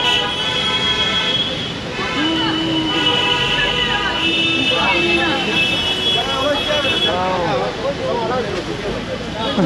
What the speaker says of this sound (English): The honking never stops in India.